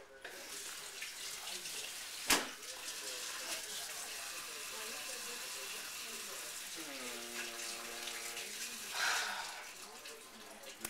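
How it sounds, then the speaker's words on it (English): A small whisk is washed under a running kitchen tap: a steady flow of water splashes into the sink, with one sharp knock early on and a brief louder gush near the end. "How hard is it to wash a little whisk?"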